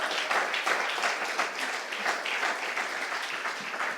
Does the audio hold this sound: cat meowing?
no